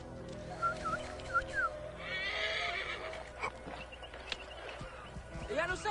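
A horse in Assassin's Creed Origins whinnies several times with short high calls, hooves clopping underneath, followed by a longer neigh; voices talk over parts of it.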